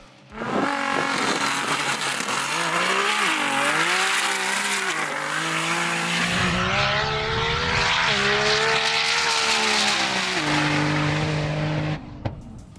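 A Nissan R35 GT-R built for precision drag racing makes a full pass at a street car event in Australia, the engine screaming loud and close as it climbs through the gears, with rising and falling harmonic sweeps, before cutting off abruptly near the end.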